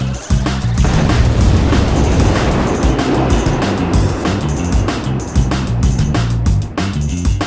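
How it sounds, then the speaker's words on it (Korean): In the video game King Piece, a ship's whirlwind skill unleashes a loud, continuous roaring rush of wind and crashing water. Deep booming thuds pulse throughout the sustained blast. "이렇게 회오리 바람이 나오고 약 8초 동안 지속"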